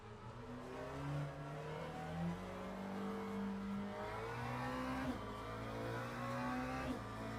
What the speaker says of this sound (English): Now you have car sound, right?